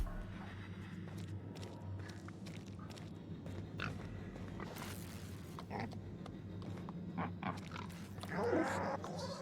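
A pig-like creature in the video game The Outer Worlds grunts and snuffles through a busy game soundscape. Footsteps and other game noise are heard, with a louder burst near the end.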